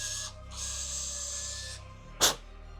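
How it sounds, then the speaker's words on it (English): Fanttik Nano power drill boring through a 2x4: a steady, close, high-pitched whirring grind that dips briefly and resumes, ending in a short sharp burst as the bit breaks through, with no voices. "That's a little tiny drill drilling through some 2x4s."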